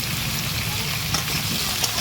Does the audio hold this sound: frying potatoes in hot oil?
yes